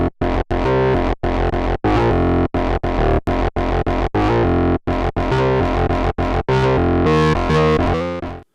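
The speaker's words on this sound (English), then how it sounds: "we should probably go and actually have a listen to our bass line here" A distorted synthesizer bass line pulses in choppy, rhythmic stabs with gritty, buzzy tone, loud and up close, building into sustained notes at the end.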